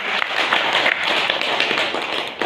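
Enthusiastic audience applause at a Bhagavad Gita group gathering, a loud, continuous wash of many hands clapping close by, holding steady without pause or speech.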